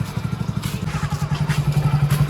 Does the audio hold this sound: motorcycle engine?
yes